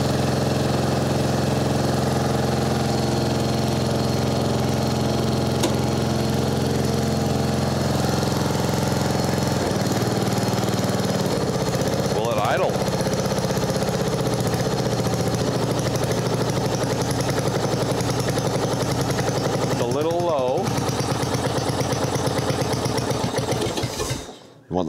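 A Mastercraft 12.5hp engine on a 38-inch riding mower runs at half throttle after carb and deck repair, a loud, steady, close drone with a buzzing rhythm that wavers slightly near the end before cutting off.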